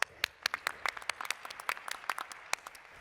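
A conference audience at a tourism industry panel gives a round of applause: a loose scatter of individual hand claps, moderately loud and fairly sparse, with no voices over it.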